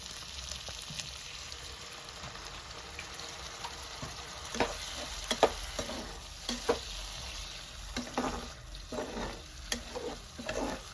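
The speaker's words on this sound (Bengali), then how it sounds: "এই যে এখানে দেখছেন মশলাটা ভাজা হয়ে গেছে।" Spices frying for a Nepali meat curry, a steady low sizzle with intermittent scraping stirs in the pan, close and quiet, no voices.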